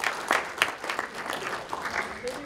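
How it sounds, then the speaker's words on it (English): Applause from an audience, a steady patter of clapping hands filling the room with some voices mixed in. "give yourselves a round of applause"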